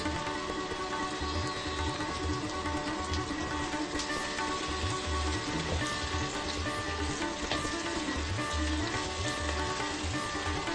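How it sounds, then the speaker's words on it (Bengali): Onions fry in a pan until reddish-brown, crackling in a steady, busy sizzle with dense spattering pops that stays even and close from start to finish, with no voices. "পেঁয়াজগুলোকে লালচে করে ভেজে তুলে রাখছি একটা বাটিতে"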